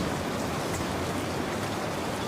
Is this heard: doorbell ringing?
no